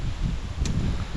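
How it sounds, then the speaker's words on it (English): A brief burst of low, rumbling wind buffeting the microphone outdoors in Phuket, Thailand, with a faint rustle over it. "it's very windy"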